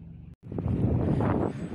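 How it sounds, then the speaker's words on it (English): Strong wind buffets the microphone outdoors on a cold winter day, a steady loud roar after a brief dropout near the start, with no talking. "I am not sure if you can hear me over the wind"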